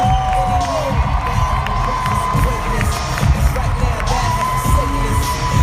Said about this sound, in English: Come on, Dallas, keep on clapping.